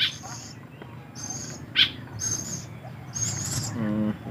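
A tame owl gives repeated soft hooting calls in short regular bursts, close by, over a steady background hum and faint murmuring.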